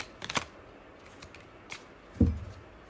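Tarot cards are quietly shuffled and drawn, with a few short, soft riffling bursts and a sharper snap near the end against a hushed room.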